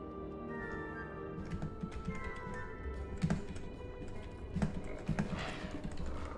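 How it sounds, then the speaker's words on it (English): Fast typing on a computer keyboard during a Wizard101 livestream, a steady patter of quick key clicks with a few heavier thuds, running continuously at moderate level. "I'm typing as fast as I can."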